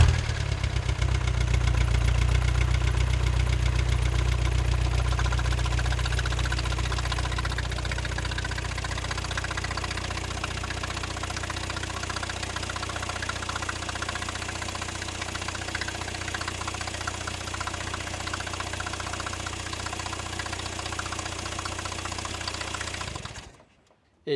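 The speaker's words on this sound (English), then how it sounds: "I'm just gonna run the engine and see if I can't hear anything suspicious coming from the top end" A van engine idles steadily close by with a rhythmic ticking and knocking from the top end, a droning, vibrating run that eases slightly in level before cutting off abruptly at the end.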